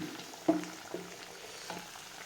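Vegetables cooking in a pan for millet upma give a soft, low sizzle, with a few light clinks as they are stirred at intervals.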